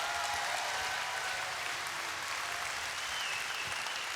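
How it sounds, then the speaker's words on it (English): Crowd aboard a cruise ship christening ceremony gives sustained applause, a broad even hiss of many hands clapping at moderate distance, steady throughout with no pauses. "Let's give Andy a round of applause."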